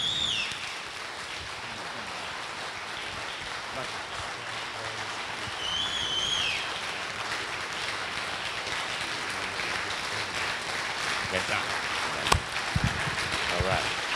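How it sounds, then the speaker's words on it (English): Steady applause from a crowd, a continuous wash of clapping with some voices mixed in throughout. "Give a wonderful and warm round of applause to our beloved brother, Steve Coakley."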